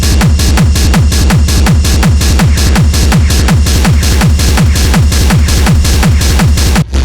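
Loud, heavily distorted schranz techno drum loop built from drum racks, a fast relentless kick pattern pounding evenly throughout with gritty, saturated hits and no voices.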